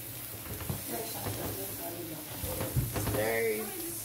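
Cabbage and lettuce being stirred into potatoes frying in a pan give a soft, steady sizzle with faint scraping stirs, fairly quiet, with a voice speaking briefly over it.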